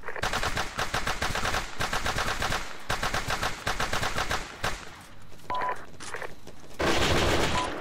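Sustained Arma 3 automatic gunfire rattles in dense, rapid bursts with brief gaps, a loud near fusillade that eases slightly before another heavy burst near the end.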